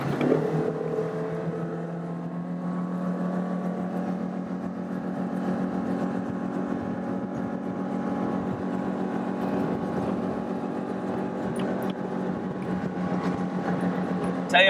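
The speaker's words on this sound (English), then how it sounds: "there's a bay boat coming, make room for them." A bay boat's outboard engine drones steadily as it motors past on the water near the MRGO rock dam in Hopedale, Louisiana, a continuous mid-distance hum that swells slightly toward the end.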